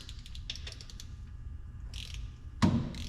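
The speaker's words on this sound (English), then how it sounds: "These things get torqued down to 11 Newton meters." Faint ratcheting clicks come from a wrench torquing bolts on a Ford 6R140 transmission in a 2015 F250 6.7 Powerstroke, a handful of quick metallic pawl ticks ending in a louder clunk.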